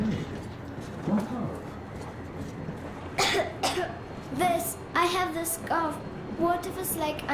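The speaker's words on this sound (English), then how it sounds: "I have this cough." A character in the video game Metro Exodus coughs several times in quick, rough bursts, close and moderately loud over low ambient game sound, with spoken dialogue around it.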